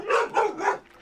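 Dogs bark three times in quick succession in the video game Sons of the Forest, sharp and fairly close, followed by a fainter trailing yelp.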